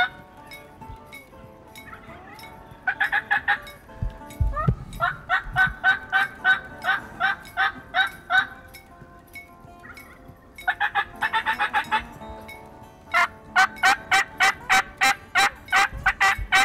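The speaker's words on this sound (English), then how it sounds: "think it's a farm turkey." Loud, rapid bursts of turkey gobbling repeat in quick rattling series out in the timber, each volley several seconds long, with quieter gaps and a few thumps between them.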